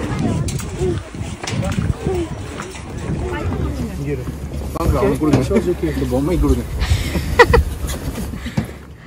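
A jet boat speeds across the water near Quebec City, its low engine rumble mixed with buffeting wind noise on the microphone while people talk over it.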